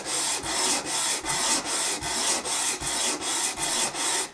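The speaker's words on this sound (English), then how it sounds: "I'm just carefully gonna sand" A walnut ring box being hand sanded with sandpaper, about ten even back-and-forth rasping strokes in a steady rhythm, close and fairly loud with nothing else heard.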